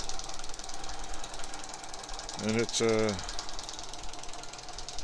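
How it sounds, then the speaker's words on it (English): A vintage Langelier drill press driven by a leather belt runs with a steady mechanical knocking whir, close and fairly loud throughout, while someone talks briefly over it. "I have never seen a drill press with a leather belt"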